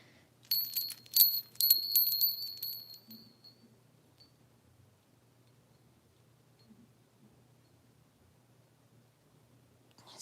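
Bright bells ring and jingle in a quick cluster at the start of an evening sand-garden session, then fade into a long near-silent stretch with faint room hum.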